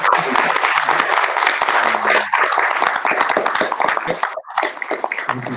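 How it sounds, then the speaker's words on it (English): Audience at a Global Cybersecurity Day event gives a sustained round of applause, dense steady clapping that carries through with a brief dip near the end. "can we have a round of applause for our"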